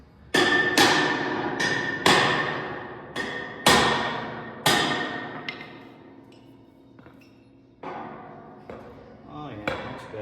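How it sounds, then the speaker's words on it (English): A hammer tapping parts open while assembling a Scrambler: about eight loud, sharp metallic strikes spaced a second or so apart, each ringing briefly before the next, close up and without talk. "I'm gonna get my hammer and spread them open just a little bit."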